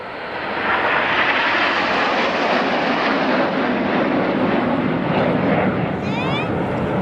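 Red Arrows jets fly the Phoenix Bend formation at the 2009 Perth airshow in Australia, a loud, continuous engine roar that fills the whole stretch, with a commentator's voice faintly under it.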